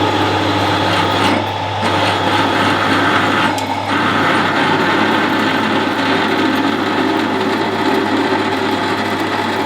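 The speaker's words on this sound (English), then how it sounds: "like most procedures on the lathe, you're going to start by facing off and just turning down the OD" Steady whirring drone of a Harrison M300 metal lathe facing and turning a part, with a constant low hum and gritty scraping of the cutting tool, continuous and close, no talking.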